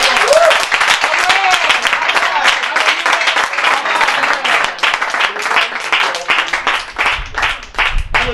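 A church congregation acclaims God as king with sustained, dense applause that fills the whole stretch, loud and close, with crowd voices mixed in.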